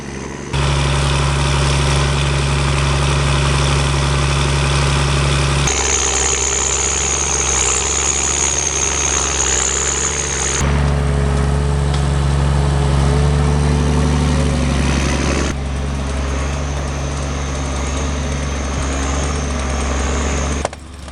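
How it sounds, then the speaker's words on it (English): A heavy logging machine's engine runs continuously, a loud steady drone with a constant low rumble and a shifting high whine across several cuts, with no talking. "The durable engine operates continuously."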